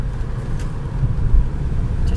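Mercedes C230 Kompressor car climbing a road uphill after easing off the gas through a turn, its steady low engine and road rumble heard from inside the cabin, continuous and fairly loud with no talking.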